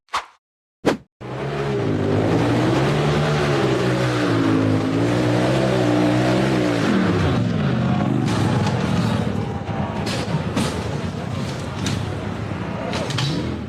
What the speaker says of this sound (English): The purple buggy hit the throttle and charged up the vertical dirt slope